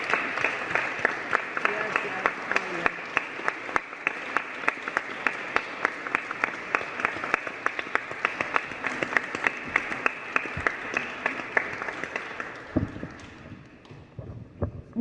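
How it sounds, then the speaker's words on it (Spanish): Sustained, dense audience applause fills a book presentation at a book fair, loud and steady for about twelve seconds before thinning out and fading near the end. "Vamos a darle un muy fuerte aplauso a todos nuestros invitados"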